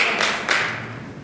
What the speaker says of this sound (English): That applause is from people in our southeast who know exactly what's going on.